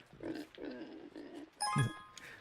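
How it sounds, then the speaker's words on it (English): Pigs in the video game Summer in Mara give three short, close grunting snorts, followed by a chiming bell-like sound. "All our pigs are out and about wandering around."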